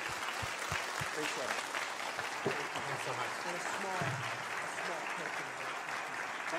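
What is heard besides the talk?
audience applause after a lecture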